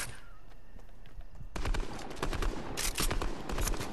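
Rapid video-game gunfire bursts loudly in a battle royale-style match, a dense rattling volley kicking in partway through and continuing in repeated bursts, with players' voices faint underneath.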